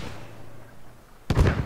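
A sudden loud blast erupts in the video game Squad after a stretch of quiet background hum, bursting with crackling energy.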